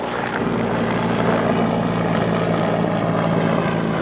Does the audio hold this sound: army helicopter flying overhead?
yes